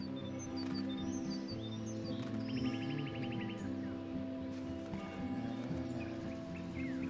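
In the video game Life is Strange, birds give small chirps and tweets over a quiet ambient music bed with soft rustling, with no voices.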